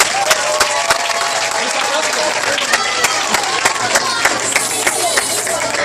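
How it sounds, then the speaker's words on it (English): School audience of children applauding a visitor named Obour at a primary school: sustained crowd clapping with scattered sharp claps standing out and children's voices mixed in beneath. "So let's give him a round of applause."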